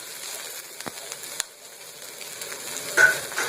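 Small ginger pieces and garlic cloves fry in hot oil, a soft continuous sizzle with light stirring clicks and scrapes that swells near the end, close by and without talk.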